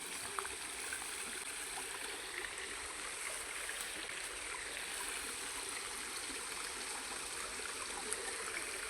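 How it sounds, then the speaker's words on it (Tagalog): A river on the way to Balon flows steadily, a constant broadband rush of moving water with no talk, even and unbroken throughout. "Ito guys, ang ilog."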